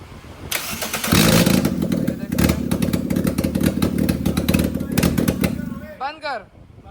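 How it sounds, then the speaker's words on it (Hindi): A Nissan Sunny, with an engine just swapped and a no-start fault, cranks on its starter motor in loud, rapid clattering bursts for several seconds, then stops and a voice follows. "अब ये लगाया है तो आपको सेल्फ मार के दिखाते हैं"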